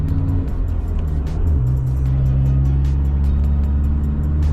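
Toyota Revo Prerunner pickup pulling through the gears on a road test after a clutch replacement, a loud, steady engine drone heard from inside that climbs in pitch as it shifts, with no voices.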